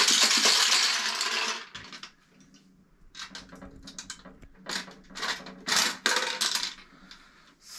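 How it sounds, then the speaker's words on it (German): Coins rattle and clink as they are shaken inside a closed container for a T-shirt raffle draw, in several brisk bursts of jingling separated by short pauses. "Und dann fangen wir mit der ersten Münze an. Ich schüttel nochmal."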